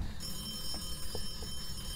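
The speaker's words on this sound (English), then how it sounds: "I'm gonna go answer the phone." A telephone bell rings indoors, sustained steady tones with faint repeating pulses, moderately loud and alone without voices.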